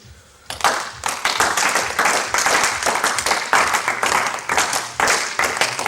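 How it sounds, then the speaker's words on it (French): A group at an ICC Liège fitness session breaks into steady applause after a brief quiet moment, with dense clapping that holds loud and continuous to the end. "Il vous applaudit."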